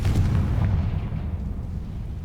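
Confringo fire spell detonating in the Hogwarts Legacy video game, a loud booming blast with a rumbling low-end tail that decays over about two seconds, with no voices.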